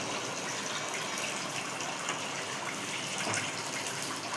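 Water pours into a chicken 65 marinade, making a steady close splashing gush that lasts a few seconds with no voices.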